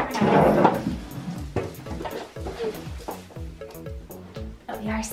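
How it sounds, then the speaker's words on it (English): Wooden drawers slide and bump in a bedroom, giving a run of scraping rumbles and repeated knocks at close range while people talk over them. "We'll stuff her in a drawer."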